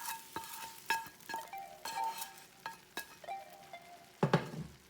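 A utensil stirs egg through a sizzling vegan Asian-style stir fry in a pan, giving a string of sharp scrapes and taps over a low, steady sizzle, close and without talk.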